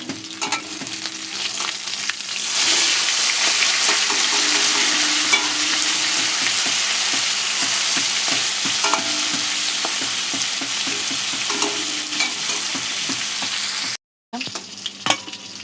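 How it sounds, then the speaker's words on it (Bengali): Fish frying in hot oil in a pan, a loud, steady sizzle that runs from about two seconds in to the end, with light scraping and clattering on top, a brief cut near the end and no voices. "ভাজা হয়ে গেছে, মাছটা তুললাম এবার।"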